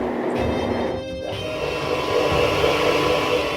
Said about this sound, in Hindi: मोटर की भी आवाज आ रही है